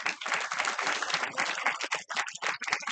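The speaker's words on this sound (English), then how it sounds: "Please clap." Dense, close audience clapping at a student induction session on gender sensitization, a continuous crackle of many hands with brief dips in intensity.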